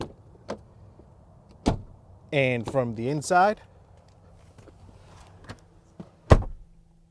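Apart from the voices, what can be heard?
2022 Infiniti QX60 doors opening and closing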